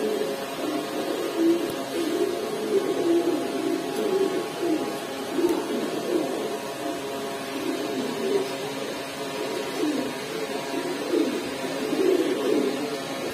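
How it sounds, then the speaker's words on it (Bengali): Several pigeons coo in repeated soft, throaty bursts at a busy pigeon market, continuing steadily over a dense background murmur. "ভাই এখানে একটা কবুতর আছে"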